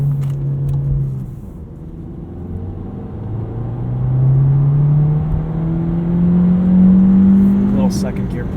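A 2019 Volkswagen Jetta 1.4T with a six-speed manual pulls hard in second gear, its engine drone rising steadily in pitch and loudness over several seconds, heard from inside the cabin with a brief voice early on.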